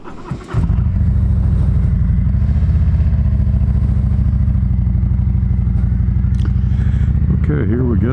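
Harley-Davidson Road King motorcycle riding through a neighborhood, its engine a close, loud, steady low rumble that throbs throughout, with wind buffeting the helmet-mounted microphone.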